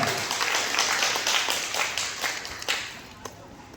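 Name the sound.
audience applause and clapping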